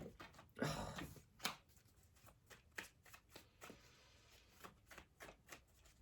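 Tarot cards being shuffled and riffled in quick bursts, close and crisp, with soft tapping and squaring of the deck between shuffles.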